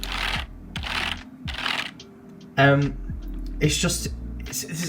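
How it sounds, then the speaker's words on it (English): Typing on a Razer Cynosa Chroma RGB membrane keyboard: bursts of soft, close key clatter in several runs separated by brief pauses, with someone talking over it at times. "when you're typing, it's kind of like there's less noise than there is with this"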